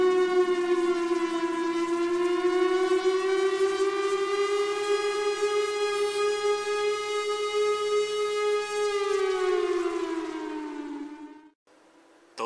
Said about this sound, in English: each siren would give off a fluctuating attack tone